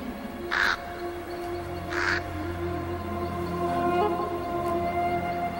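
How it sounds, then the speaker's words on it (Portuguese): A crow caws twice, about a second and a half apart, each call short and clear over a steady low background hum with no voices. "Um corvo?"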